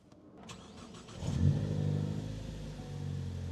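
A Ford Focus ST engine cranks and catches, then settles into a steady, moderately quiet idle while the car's brake vacuum pump is being repaired. A smooth running hum continues to the end without talk.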